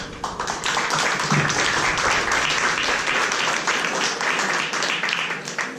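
Sustained applause from a conference audience, dense and steady throughout, without anyone speaking over it.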